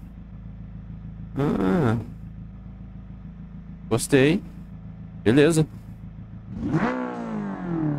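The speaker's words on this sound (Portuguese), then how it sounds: "Baita barulho do motor, hein?" A modded McLaren in the driving game BeamNG.drive revs in three short, sharp bursts over a low, steady idle, then gives a longer rising rev; someone speaks briefly between the revs.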